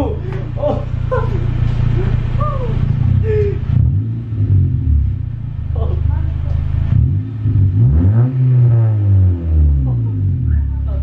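A Honda Civic Si engine with its exhaust removed revs hard, the loud rumbling pitch rising and falling in several surges, while people talk over it.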